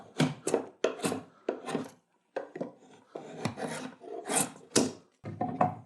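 A drawknife shaves wood in a run of rhythmic rasping strokes, each a close, loud scrape with brief pauses between pulls, and no talking.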